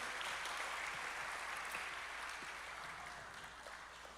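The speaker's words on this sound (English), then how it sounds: "let's give these three a round of applause" A congregation at a community crusade church program claps for three people, a fairly faint, steady patter of applause that slowly fades over a few seconds.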